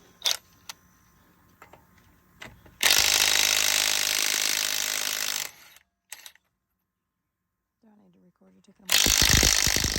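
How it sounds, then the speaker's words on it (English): Impact wrench bursts loosen the lug nuts on a 2013 Buick Enclave 3.6L with a 23 mm socket, a loud sustained rattling run followed by a shorter burst, with clicks and clinks in between. "you're going to use a 23 millimeter socket on the lug nuts"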